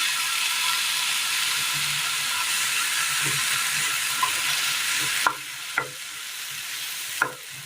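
Tomato frying in a pan of hot oil for a home-style curry, a steady broad sizzle running throughout, with a few sharp clacks of a spoon stirring and scraping near the end.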